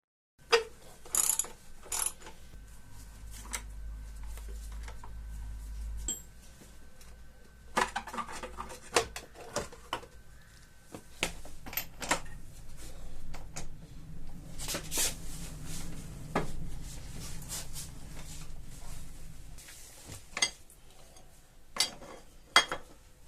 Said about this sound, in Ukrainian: Було нелегко відкрутити цю гайку.